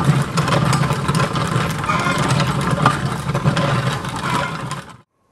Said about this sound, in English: I think they hear me grinding corn.